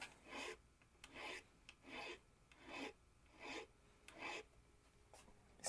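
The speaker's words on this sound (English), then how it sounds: "Spacing out, listening to the filing," Rhythmic rasping of a file or rasp on wood in a cedar shop: about seven even strokes, each a broad scraping burst with short pauses between, close and fairly quiet with no talk.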